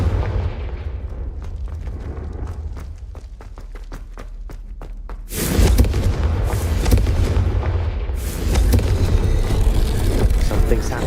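A Confringo explosive spell in Hogwarts Legacy crackles with a rapid run of popping bursts before erupting into a loud, sustained fiery blast, followed by a second surge of roaring explosion.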